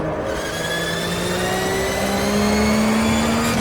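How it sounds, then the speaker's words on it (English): A Porsche Boxster Cup race car revs hard on the track, its engine note climbing steadily in pitch as it accelerates, loud and close with no speech. "Bit cheeky on those downshifts there, high revs."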